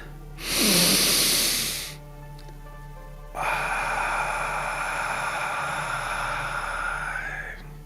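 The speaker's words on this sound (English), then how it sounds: "Nice deep breath in through the nose." A long nasal inhale rushes in loudly for about a second, then fades to quiet before a softer, steady airy hiss follows, close to the microphone during a guided breathing session.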